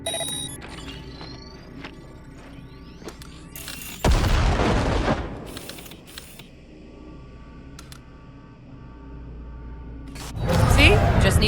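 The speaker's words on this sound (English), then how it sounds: "Now, detonate the grenade." A grenade detonates in the video game Cyberpunk 2077, a sudden loud boom that breaks in mid-scene and rolls into a noisy decaying rumble, with game ambience and faint voices around it.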